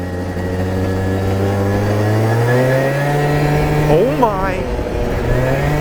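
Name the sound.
modified 50cc scooter engine revving under throttle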